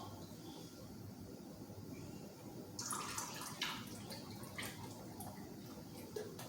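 Beef broth poured from a carton into a measuring cup, a soft continuous liquid splash that starts partway through and runs steadily, close by, with faint kitchen background before it.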